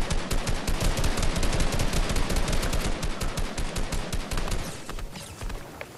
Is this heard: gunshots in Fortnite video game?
yes